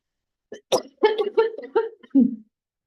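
A short series of harsh coughs, about six in quick succession, close to the microphone against silence.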